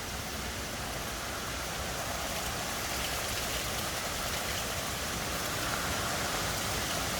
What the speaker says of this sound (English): It's really windy outside. Heavy rain, gusty winds, blowing trees.